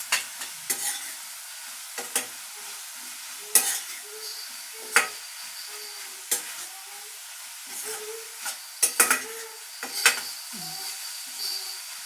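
Cabbage curry sizzles steadily in a pan while a spoon stirs it, scraping and knocking against the metal in irregular bursts over the constant frying hiss, close by with no talk.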